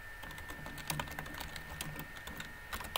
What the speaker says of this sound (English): I'll just go to Google real fast and I'll type in manifest destiny